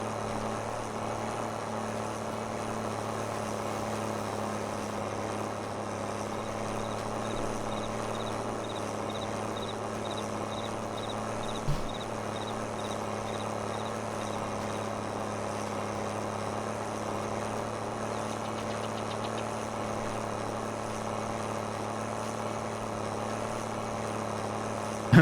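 Small tractor of about 200 horsepower in Farming Simulator 22, its engine running at a constant steady drone while working a field, with a faint periodic ticking and no speech.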